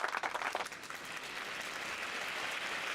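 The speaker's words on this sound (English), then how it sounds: "There was some lovely applause." Applause sound effect on a live stream, a steady wash of clapping from many hands, fairly faint and even in level for a few seconds, with no talk over it.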